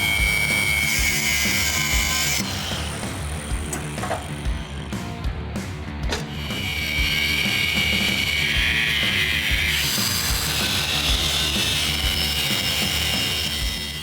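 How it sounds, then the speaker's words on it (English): A power tool cuts about an inch off a steel spring hanger bracket on a truck chassis, grinding loudly and close with a shrill whine that rises and falls and briefly drops out midway. "We're going to end up cutting about 1 inch out of the spring hanger"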